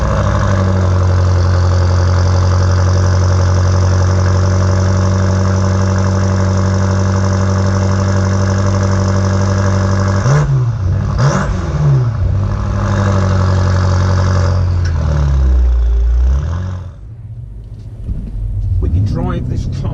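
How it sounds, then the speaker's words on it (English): A 2018 BMW M5 engine grumbles in a deep, loud, steady low drone that holds for about ten seconds, then shifts and rises before dipping near the end, with a person speaking over it. "Drive this car and it grumbles at you."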